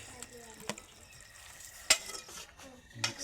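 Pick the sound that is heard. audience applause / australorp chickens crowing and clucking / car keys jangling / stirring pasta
stirring pasta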